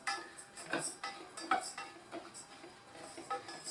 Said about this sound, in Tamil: இந்த பாசிப்பருப்பை போட்டு நம்ம வறுக்க ஆரம்பிச்சிடலாம்.